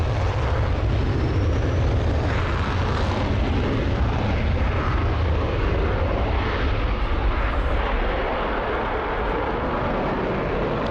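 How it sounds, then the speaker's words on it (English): A simulated aircraft in Microsoft Flight Simulator 2024 roars through a steep climb takeoff, its engine a loud, continuous, broadband rush that holds steady and slightly eases toward the end. "Okay, steep climb takeoff."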